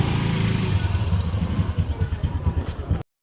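A motorbike carrying the rider's young son runs steadily and close by, its low engine drone loud and continuous with a slightly uneven throb, then cuts off abruptly.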